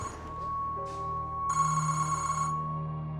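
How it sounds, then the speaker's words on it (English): A telephone bell rings in bright, sustained bursts over a steady low hum, one loud ring pattern lasting about a second, then falling back to quieter tones. "Then the phone rang"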